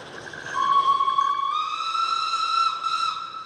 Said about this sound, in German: doch dann schnurrt die fast 100-jährige Dampflok wie geschmiert nach oben